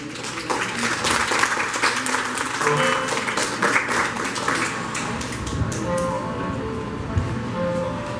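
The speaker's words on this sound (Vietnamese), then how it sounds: "xin quý vị cho một tràng pháo tay" An audience applauds at a Vietnamese book-launch event, welcoming a singer to the stage with dense, sustained clapping that swells and then thins toward the end, while a voice speaks faintly over it.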